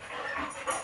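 A black lab mix dog gives a short, faint whimper with soft panting breaths, close by and alone, lasting under a second.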